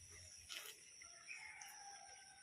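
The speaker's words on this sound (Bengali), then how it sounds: "সকালবেলা মুরগির ডাক" A rooster crowing in the early morning, a fairly faint, distant call rising twice over quiet outdoor background with some birdsong, no voices.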